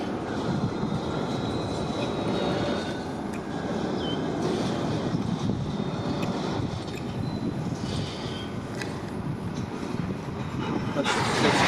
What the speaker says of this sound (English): So, 3 trains off of CPKC and CN today.